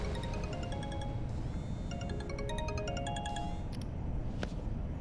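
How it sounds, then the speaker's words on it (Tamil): A mobile phone ringtone plays in a repeating electronic melody of bright tones, steady and moderately loud over a constant background hum, with no one talking. "ஃபோன் அடிக்குது."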